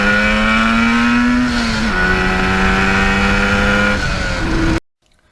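A 1977 Yamaha RD400 motorcycle engine screams at wide-open throttle, loud and close, its pitch holding high, dipping briefly as gears change, then cutting off abruptly into near silence at the end.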